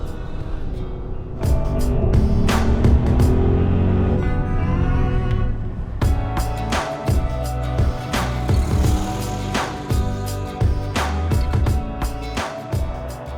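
An Audi RS Q8 SUV's 590-horsepower engine revs hard under acceleration in dynamic mode, with loud, close rising and falling surges and gear-change breaks throughout.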